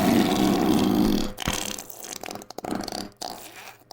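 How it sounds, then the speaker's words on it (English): A wet fart sound effect played during a live stream, a loud drawn-out squelching, spluttering blast that breaks into shorter sputters and wet pops toward the end. "Wet fart sound."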